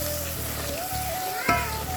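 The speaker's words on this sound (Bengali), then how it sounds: "একটু মশলাটা কষিয়ে নিই।" Ground spices and garlic paste sizzle steadily in hot oil in a pan, with prawns just lifted out, a soft continuous frying hiss with a small clatter near the end.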